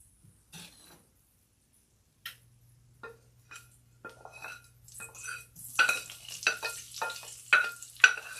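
Sliced white onion and spices frying in a pan, starting quietly and building into scattered sizzles and sharp pops, with occasional stirring clinks of utensil on cookware, close and fairly soft.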